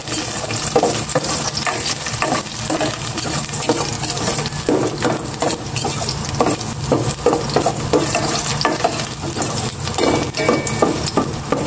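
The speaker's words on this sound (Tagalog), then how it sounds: "Gisa ko na itong bawang." Garlic sautés in hot cooking oil, a steady loud sizzle with clinking stirring strokes from a utensil against the pan, no talk.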